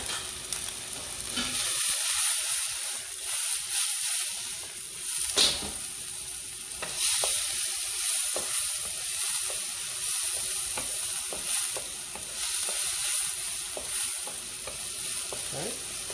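Sliced Chinese sausage fries in a pan for fried rice, a continuous bright sizzle punctuated by the scrape and clack of a spatula stirring at regular intervals, close and steady with no talking.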